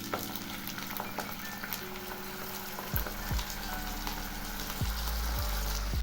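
Whisked sour yogurt poured into a hot curry pan with spices for carrot kabab curry, a quiet steady sizzle and frying hiss with a few soft spoon clinks, no talking.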